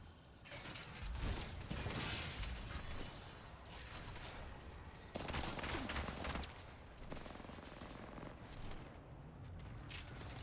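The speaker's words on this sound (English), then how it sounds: "Shots come through as AU tries to take over this boundary building" Gunfire in Apex Legends during a collegiate esports match, squads fighting over a boundary building: dense, continuous bursts of shots and mechanical clatter layered throughout, with louder flurries near the start and middle.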